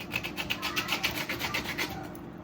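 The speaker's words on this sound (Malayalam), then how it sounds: "പിന്നെ ഈ ഒരു ഇത് നല്ലോണം ഒന്ന് ചുരണ്ടി കളയണം" A knife scrapes dried fish clean in a kitchen, a steady run of short rasping strokes repeating quickly and evenly, close and fairly quiet, with no talking.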